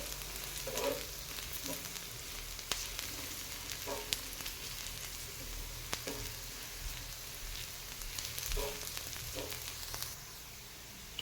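A whole onion blackens on a cast iron griddle being seasoned for dosa and amboli, giving a faint, steady sizzle and crackle with a few soft pops and occasional sharp ticks.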